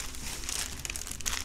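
Plastic bag crinkling up close, a continuous rustle with sharper crackles scattered through it.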